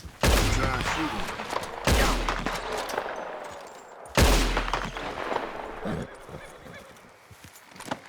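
Gunfire aimed at a rabbit in Red Dead Redemption 2: three loud, sharp shots spaced a couple of seconds apart, each with a booming onset that decays into a ringing tail, set over outdoor ambience.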